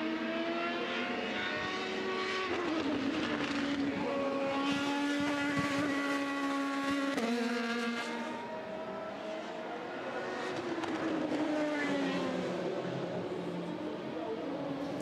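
A Le Mans prototype race car engine screams during qualifying, its pitch climbing through the gears and dropping briefly before rising again, a sustained loud whine with harmonics heard over a distant circuit background.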